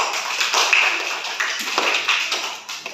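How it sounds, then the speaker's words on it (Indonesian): Students in a classroom give a round of light, scattered clapping for a group, quick bright taps blending into a brief patter. "Oke, kasih tepuk tangan."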